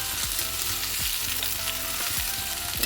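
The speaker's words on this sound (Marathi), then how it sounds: "गॅस फास्ट ठेवा, नंतर भाजून घ्या." Bottle gourd for bharit sizzles and fries steadily in a pan over a high gas flame, a continuous close hiss with a few soft stirring scrapes throughout.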